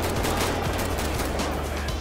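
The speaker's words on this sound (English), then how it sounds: "I'm still hearing shots." Rapid gunfire in the GTA 5 LSPDFR police mod: a dense, continuous string of close shots and bursts, loud and unbroken, with no talking.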